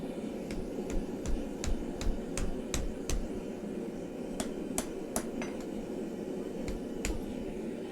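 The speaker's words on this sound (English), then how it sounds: "Hold on, I'm hammering. I'm by the anvil." Metal hammered on an anvil during blacksmith forging of flattened rail anchor steel: a series of sharp, ringing strikes in irregular clusters, fairly close, over a steady low rumble of workshop noise.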